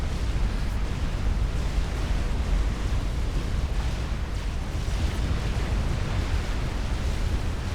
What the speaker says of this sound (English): Huge quantities of artillery.